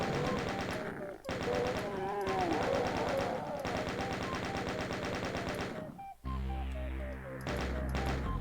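Rapid repeated gunfire in the video game Doom Zero while enemies are sniped off in an ancient archives level, long sustained bursts of shots broken by brief pauses, with a lower rhythmic pulse near the end.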